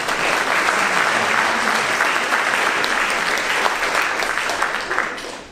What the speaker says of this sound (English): if you sit down, you'll get a lovely round of applause,